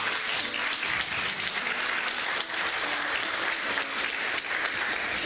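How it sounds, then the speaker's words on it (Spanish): A church congregation claps together in sustained, dense applause that stays steady and fairly loud the whole way through, with a faint murmur of voices underneath. "denle un aplauso al Señor."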